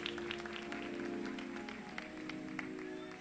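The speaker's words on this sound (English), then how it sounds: "One more round of applause." Another round of audience applause at the 2017 AIM Labor of Love Awards ceremony, a brief stretch of scattered clapping from the crowd, fairly soft and even throughout, with some background voices.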